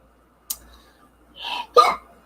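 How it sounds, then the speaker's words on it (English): A single person hiccups sharply twice, close and fairly loud, in an otherwise quiet room, with a third softer catch between them. "I've got the hiccups."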